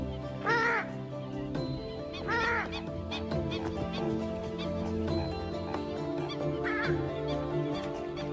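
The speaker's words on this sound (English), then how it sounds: "This is the purple swamp hen, also called the sultana bird, famed for its very loud," A purple swamp hen gives loud, explosive honking calls, with repeated harsh bursts spaced a couple of seconds apart and heard fairly close over a steady wetland background with faint other birds.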